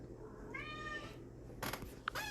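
Small black cat meowing in a video game, one clear drawn-out meow followed by a short chirp, close and distinct over a low background hum with bursts of noise.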